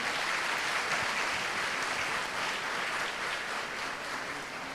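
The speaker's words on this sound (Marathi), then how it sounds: "सगळ्यांना मी एक विनंती करतो की सगळ्यांनी टाळ्या वाजवून त्यांचं पहिलं हे करावं" An audience at a medical college convocation ceremony applauds, a dense, steady wash of many hands clapping that fades slightly toward the end.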